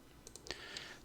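A few sharp computer mouse clicks while drafting in CAD software, quiet and close, spaced irregularly over about a second with no talking.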